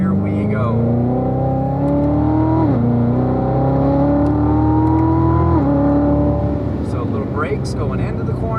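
High-performance car accelerating hard on a race track, its engine note climbing steadily through two gear changes, loud and close from inside the cabin, with a voice talking over it.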